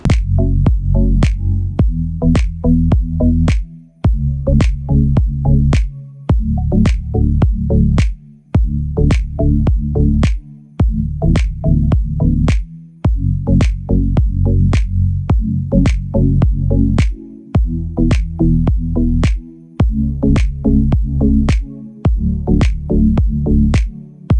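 Green gram idli batter ladled into oiled idli plates, a loud, close series of thick, regular plops and drips repeating for about twenty seconds with short pauses between plates, no voices.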